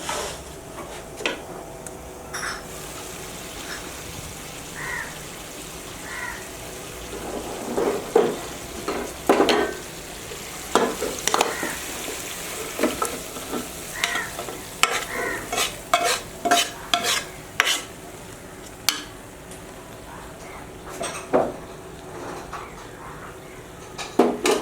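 A spoon stirs chicken into fried rice in a pot for chicken tehari, giving repeated scraping clatters and metallic knocks in an irregular rhythm, close and fairly loud, with a faint sizzle underneath and no talking.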